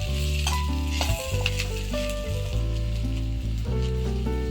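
Onions, coconut and green chilies frying in a pan, a continuous close sizzle with a steady hum underneath and a few stirring knocks.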